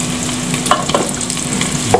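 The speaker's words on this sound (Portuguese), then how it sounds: "Agora vamos pôr a calabresa. Olha, tá fritinho" Diced calabresa sausage and bacon fry in a pan, a close, continuous sizzle with a few sharper crackles and scraping stirs, no voices present.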